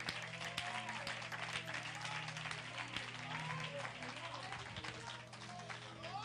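Congregation clapping hands at a church prophetic summit, a thick sustained crowd of claps mixed with voices and cheering, heard somewhat distant and muffled beneath a steady low hum.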